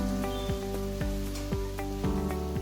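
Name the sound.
masala with ginger garlic paste and tomato frying in pan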